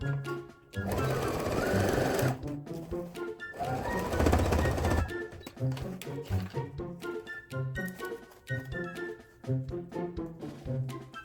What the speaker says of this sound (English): we're going to sew those 2 inches down really quick